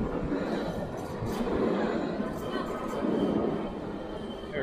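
A steady rumble of a tram rolling past in a Jerusalem street, with a rising and falling hum and some faint voices in the background.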